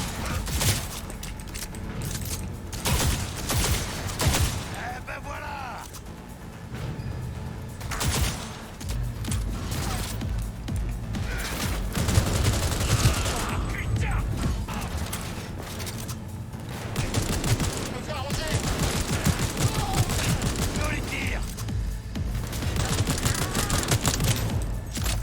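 Gunfire from a pump-action shotgun in the video game Cyberpunk 2077, with dense, continuous bursts of shots and impacts filling the mix at steady loudness throughout.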